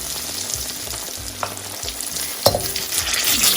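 Chicken-stuffed chilli bajji fry in hot oil over a medium flame, a steady crackling sizzle with occasional sharper pops and a louder burst near the end.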